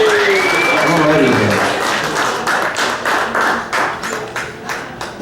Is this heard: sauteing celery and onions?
no